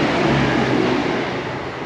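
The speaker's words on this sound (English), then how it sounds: "Excuse the train." A broad, roaring rumble of a train passing nearby, loud at first and slowly easing off.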